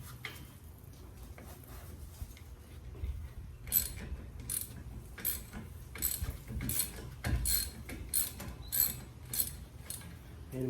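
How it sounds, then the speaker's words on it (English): A ratchet undoes an 18mm brake caliper guide pin bolt on a VZ Adventra, with scattered quiet clicks that grow into irregular bursts of ratcheting, close and fairly faint. "you want 18mm on the guide pin, and then you want to undo the guide pin bolt"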